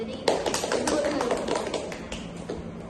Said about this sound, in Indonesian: Tepuk tangan dulu, kita udah